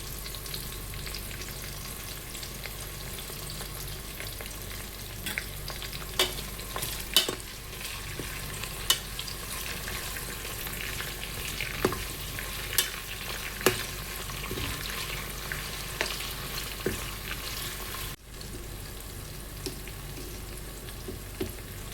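Green chillies and curry leaves fry in hot oil for a mutton tomato curry, a steady dense sizzle with scattered sharp pops and occasional stirring scrapes, close and continuous with no voices.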